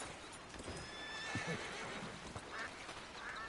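Horse neighing and clip-clop hooves in a PS4 video game, one clear whinny standing out against the steady game soundtrack with no talk over it.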